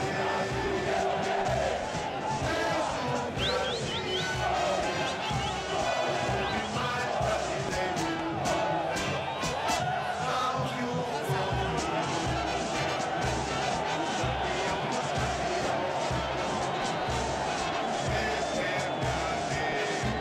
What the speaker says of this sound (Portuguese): No som do hino, a comemoração com a torcida.